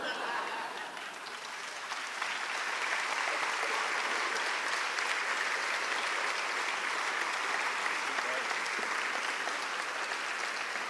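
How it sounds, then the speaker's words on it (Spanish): Sustained applause from a large audience in Caracas, building over the first two seconds and then holding steady as a dense, continuous wash of clapping with no voices on top. "los aplausos de Caracas, son para él"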